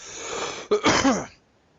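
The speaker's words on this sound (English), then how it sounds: "I'm just going to cough a little bit." A short burst of coughing, two or three rough coughs in quick succession, close and fairly loud, following a stretch of low background hiss.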